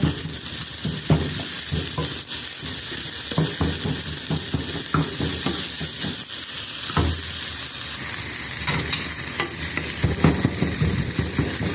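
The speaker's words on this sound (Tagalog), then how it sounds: "Hayaan lang natin na maluto ng konti yung bawang" Garlic sizzles steadily in a hot pan with repeated scraping stirs, close and continuous throughout, with no voices.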